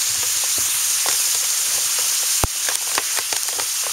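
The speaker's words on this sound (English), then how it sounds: "obviously what you got there is boiling water" Water in a container, boiling after hot rocks are dropped in outdoors, gives a steady loud sizzle and hiss, with scattered pops and bubbling crackles throughout and one sharp click midway.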